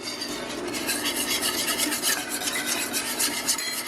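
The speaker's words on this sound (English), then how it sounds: "And then as you stir, it'll start thickening." A spoon scrapes and rubs steadily through golden rice flour gravy thickening in a pan, a close, continuous rasping stir with quick repeated strokes and no voices.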